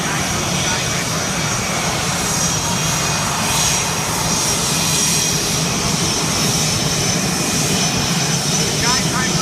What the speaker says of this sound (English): The Skypipers are flying 6 NSA aircraft. And a dozen from behind will be overhead.